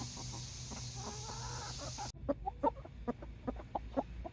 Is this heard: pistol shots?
no